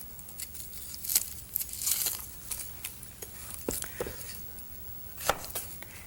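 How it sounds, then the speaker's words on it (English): A knife cutting an onion on a board, with irregular crisp chops and slicing taps, some louder strikes among softer cuts, up close with no talking. "I'm just going to chop it, slice it in half"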